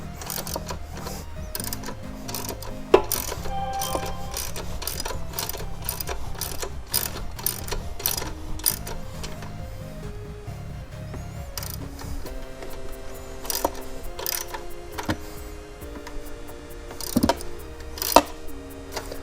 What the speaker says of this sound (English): And then you just spin this bolt out. And you'll see that the chain is tightening as we go.